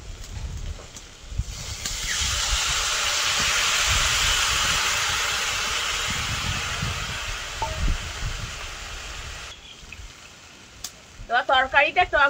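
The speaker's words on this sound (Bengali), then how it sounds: "টক তরকারি ফুটে উঠেছে" Sour vegetable curry with okra and potato boiling in a pot, for a mrigal fish roe dish: a loud, steady bubbling hiss that fades out, then a voice speaks briefly at the end.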